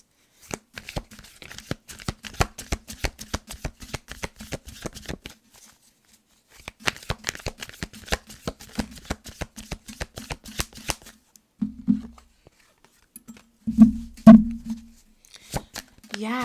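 A deck of tarot cards is shuffled close up in rapid, crisp clicking bursts. Two long runs are separated by a short pause, followed by scattered flicks while a voice talks.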